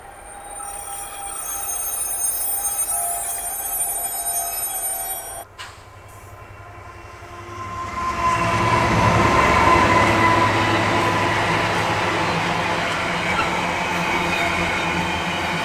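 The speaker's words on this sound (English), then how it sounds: "there is a class 60 on oils coming from Birmingham" A Class 60 freight locomotive hauling an oil train, passing close and loud with a rising rumble of wagons and wheels, metallic squeal and rail noise building after a brief lull and holding steady to the end.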